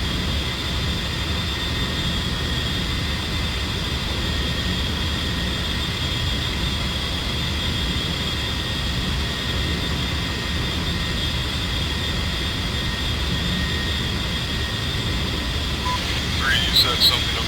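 Steady, continuous engine roar from an A-10C jet aircraft in the DCS flight simulator, a constant whining hum with tonal drone that stays level throughout, with brief clicks near the end.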